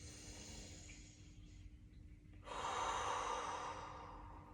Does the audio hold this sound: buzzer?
no